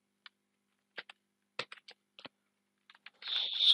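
Sparse, faint keystrokes on a computer keyboard while entering text into an Excel spreadsheet: single clicks and short bursts of two or three, ending in a louder rush of clattering.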